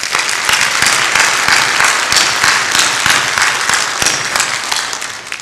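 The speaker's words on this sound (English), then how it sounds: "Can we again give them a round of applause?" A crowd at an MLK Day ceremony applauds young people, a dense and steady wash of many hands clapping loudly without pause for several seconds, fading slightly at the end.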